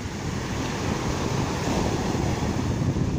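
Waves of the Azov Sea wash onto a beach at Kyrylivka on an early morning, a continuous broad roar of surf blended with wind, steady and fairly close with no voices.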